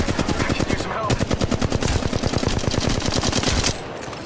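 Rapid automatic gunfire from the video game Apex Legends Mobile rattles loud and continuous for several seconds before easing slightly at the end.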